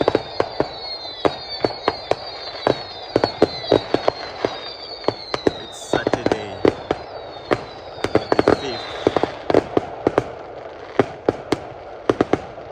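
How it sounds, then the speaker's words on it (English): Bonfire Night fireworks display at the Royal Leamington Spa Rugby Club on 5 November 2023: rapid sharp bangs and crackles with rising whistles throughout, fairly close and loud, while someone talks over them. "Oh, it's lovely fireworks, guys. Wow. This is lovely fireworks."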